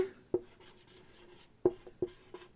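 A pen writes a geometry proof by hand on paper, producing faint soft scratching strokes with a few light taps, quiet and close, with no talk.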